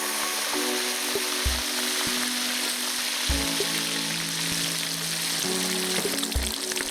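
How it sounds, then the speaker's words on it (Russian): Chunks of pork sizzle in hot oil in a kazan over an open fire. A loud, steady frying hiss runs throughout, broken by occasional low thumps and clanks of the pot, and nobody speaks. "В раскаленное масло возвращаем наше обжаренное мясо."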